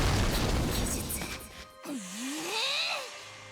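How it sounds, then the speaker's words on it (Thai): Nezuko's exploding blood demon art from the Demon Slayer Hinokami Chronicles game bursts in a loud crackling blast that cuts off, followed by a rising and falling swooshing magical tone, with no speech. "โลหิตระเบิดใช่ไหม"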